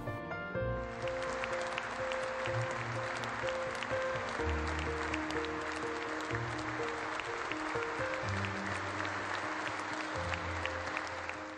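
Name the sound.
concert audience applause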